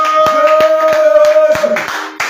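A church congregation applauds in praise of the Lord, with steady rhythmic hand claps repeating about every third of a second, loud and close under a sustained musical tone.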